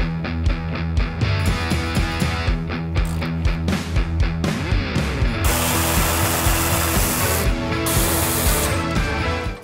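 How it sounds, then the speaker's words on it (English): A power tool cuts out a section of metal tubing from the front strut tower area of a custom-built, 1960s-inspired supercar, a loud continuous grinding roar with shifting pitch that runs the whole way through. "So I'm getting ready to cut out this section of tubing"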